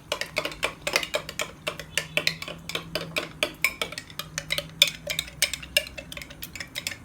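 A spoon rapidly stirring tuna pasta salad with mayonnaise and lemon juice in a bowl, producing a quick, steady run of close clinks and soft squelchy scrapes.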